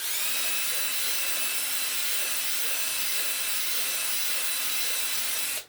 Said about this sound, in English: I've got a drill with a a boring brush on it